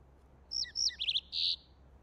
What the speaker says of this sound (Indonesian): Oh, bahkan kicauan tidak masuk akal lagi.